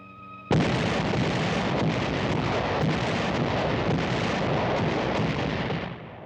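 Allied artillery guns opening fire along the Italian front at night in WWII, a sudden roaring barrage that holds as a dense, continuous rumble of overlapping blasts before tapering slightly at the end.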